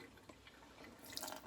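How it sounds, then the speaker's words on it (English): Warm water runs and drips across a cutting mat, a soft trickle that grows louder and splashier toward the end of the short moment. "I'm going to use just some warm water. I'm just going to run that across my whole mat."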